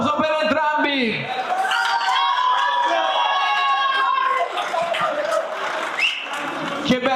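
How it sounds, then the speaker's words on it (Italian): A packed crowd at a regional boxing tournament final in Veneto roars and cheers for both fighters, a dense wash of many voices and shouts that stays loud throughout, with a few sharper yells standing out. "Un applauso per entrambi!"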